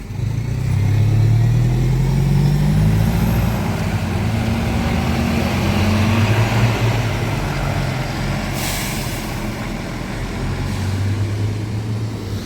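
Buses idle and pull away at a busy transport hub, a long low engine rumble with rising revs, a hiss of air brakes and passing traffic, fairly close and with no talk.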